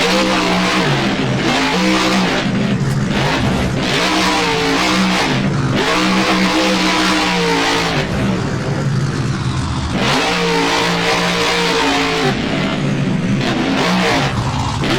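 A monster truck engine in BeamNG revs hard and loud, rising and falling in repeated throttle surges alongside the rumble of jumps, with no talking.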